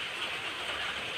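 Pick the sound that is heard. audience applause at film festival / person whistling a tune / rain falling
rain falling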